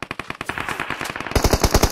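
Rapid automatic gunfire in the PUBG battle royale game, a fast string of sharp close shots that grows heavier and more booming toward the end, loud and alone without talk.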